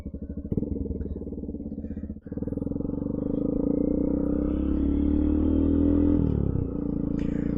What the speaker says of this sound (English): I'm just gonna ride a little bit so you can hear the new exhaust.